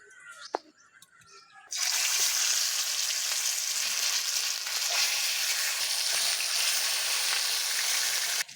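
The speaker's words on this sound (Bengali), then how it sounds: "মাছগুলো ভাজা হতে থাক" Katla fish pieces drop into hot mustard oil, and a loud, bright sizzle bursts in after a quiet start with small clinks. It then crackles on steadily and close, without a break, until it cuts off at the end.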